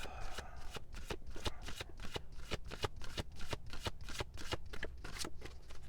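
A deck of Lenormand cards is shuffled by hand in quick, crisp riffling bursts, close and fairly quiet, with no talking.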